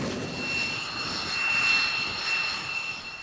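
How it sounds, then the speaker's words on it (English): A carrier-based X-47B unmanned combat aerial vehicle with a tailless blended-wing body passes with a moderate, whooshing jet roar that swells and fades, plus a steady high whine. "This unmanned combat aerial vehicle is specifically designed for aircraft carrier-based operations."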